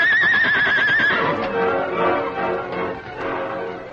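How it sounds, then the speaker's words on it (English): A horse whinnies loudly in an old-time Western radio drama, the wavering neigh lasting about a second before giving way to a dense rumble of crashing, clattering effects. "The great horse Silver drew back as the door crashed down before the onslaught of his powerful hoofs"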